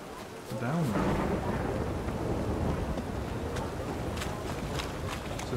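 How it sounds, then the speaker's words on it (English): Deep rolling thunder and steady rain from a storm in the video game The Witcher 3: Wild Hunt, a low rumble building in the first second and then a continuous loud wash of rain and wind with no talk. "There's a storm coming in."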